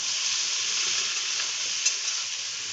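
Garlic paste and chopped tomato fry in a pan for a dal and egg tarka, giving a steady, loud close-up sizzle with a faint scrape of stirring.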